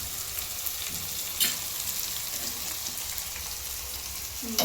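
Bisibele bath powder, coriander powder and turmeric frying in a hot pan, a steady close sizzle and crackle with a few brief stirring scrapes.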